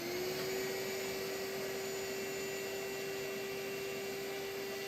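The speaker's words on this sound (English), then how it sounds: "let's get that vacuum ready" A vacuum cleaner runs steadily while removing excess static grass from model train scenery, a loud continuous motor whine with a constant pitch and airy broadband hiss, with no voices.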